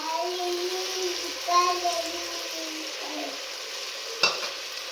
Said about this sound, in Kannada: ನೆಕ್ಸ್ಟ್ ನಾನಿಲ್ಲಿ ಹುಣಸೆ ರಸವನ್ನು ಸೇರಿಸ್ಕೊಳ್ತಾ ಇದ್ದೀನಿ